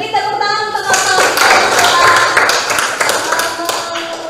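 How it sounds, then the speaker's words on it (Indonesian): Classroom clapping for classmates during an art lesson on hatching technique, a short burst of students' hands clapping, close and fairly loud, with some irregular taps. "Beri tepuk tangan untuk teman-teman"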